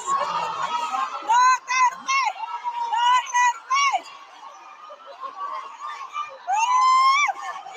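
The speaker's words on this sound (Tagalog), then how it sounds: "Grabe yung sigaw ng mga tao talaga" A large crowd of supporters at a political rally in the Philippines shouts in loud, rhythmic bursts, with voices rising and falling in a chant-like pattern across the gathering.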